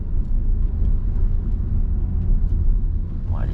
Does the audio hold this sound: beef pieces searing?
no